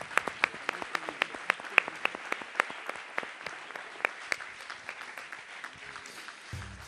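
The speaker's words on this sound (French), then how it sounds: "on peut les applaudir tous les trois" An audience applauds three speakers at a Catholic communicators' conference, with fairly sparse, distinct claps ringing out in a loose rhythm that thins toward the end.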